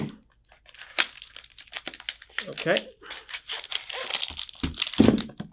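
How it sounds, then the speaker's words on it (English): Scissors snip and tear open the plastic packaging of a clay modeling kit for stop motion, producing close crinkling, crunching and cutting bursts, with a brief spoken word in between. "let's use some scissors here to open this up"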